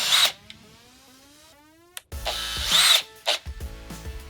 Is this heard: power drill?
yes